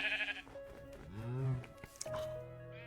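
Minecraft sheep bleat in a woodland biome: one drawn-out wavering bleat dominates the middle, with shorter game sounds around it and no voices.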